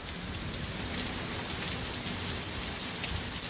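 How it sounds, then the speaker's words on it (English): Hail falls during a bad storm, a dense steady clatter of pellets and rain hammering surfaces nearby, loud and continuous with no pauses. "Well, it's hailing. Storming pretty bad. We got some hail going on."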